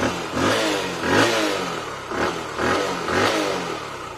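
A Bajaj Pulsar 135 motorcycle engine is revved repeatedly up close, with four rising-and-falling throttle blips in a steady rhythm and no talking.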